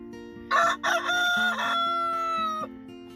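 A rooster crows loudly and close by, one long drawn-out call with a rising start and a sustained wavering tail, over a low steady hum.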